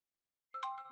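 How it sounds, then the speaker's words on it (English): Phone ringtone sounding for an incoming call during an online community council meeting, a short melodic electronic tone that starts abruptly halfway through and repeats steadily, loud and close with no talk over it. "Sorry, I'm also getting a phone call."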